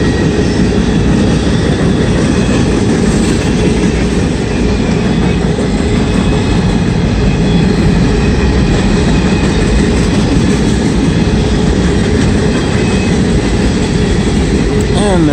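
Norfolk Southern northbound freight train passing close by on the track, a loud continuous roar of rolling wheels and rumbling cars throughout with steady clatter and faint squeal.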